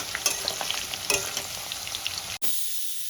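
Potatoes frying in hot oil, seasoned with salt and turmeric, crackle in a steady close sizzle with brief stirring scrapes; the sound cuts out sharply near the end, then resumes more faintly.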